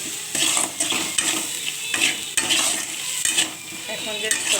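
Sugar-sprinkled food, young hog plums with mustard, poppy seed and green chilli, is stirred in a sizzling pan. A spoon scrapes and clatters in repeated strokes over a steady close frying hiss, with no talking.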